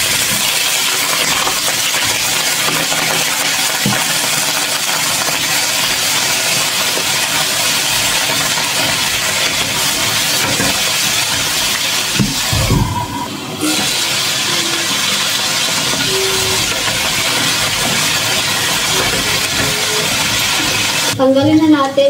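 Carrots and potatoes fry in hot cooking oil, giving a loud, continuous sizzling hiss that runs throughout, with a few clinks and stirring noises partway through.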